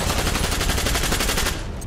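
Rapid automatic gunfire from Army of Two: The Devil's Cartel under suppressive fire, a loud, dense rattle of bursts that stays steady before thinning out near the end.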